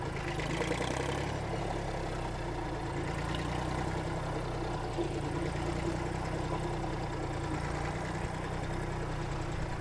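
A 1959 Fordson Dexta tractor idles close by, its engine a steady low rumbling chug that holds evenly throughout with no talk.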